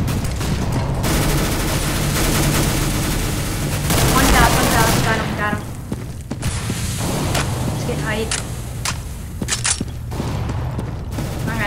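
In a CS:GO match, a flashbang is followed by dense, loud gunfire with rapid bursts and sharp cracks, with shots continuing in sparser single reports. Players talk over the game noise.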